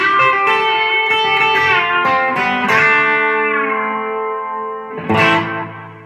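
An electric guitar with a B-bender plays a country phrase, twangy picked notes and bends ringing out with a sustained tail and a final plucked accent.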